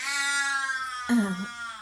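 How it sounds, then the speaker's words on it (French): A domestic cat meows indoors, a single drawn-out, close cry lasting over a second, rising then bending into a lower wavering tail, heard alone without talk. "mon chat, qui a envie de participer un petit peu à la vidéo, donc elle s'exprime"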